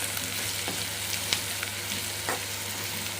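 Onions and turmeric fry in a pan for a raw mango pulihora, giving a steady close sizzle with a few soft stirring scrapes and no talking.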